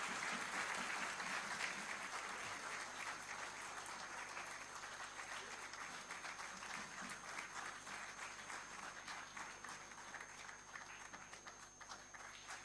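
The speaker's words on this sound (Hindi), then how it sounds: "युवा अगर साथ और तालियों की गूंज ना हो तो स्वागत का कोई फायदा नहीं।" Steady applause from a youth gathering at a budget dialogue event fills the whole stretch, a dense crowd clapping continuously at close range without a break.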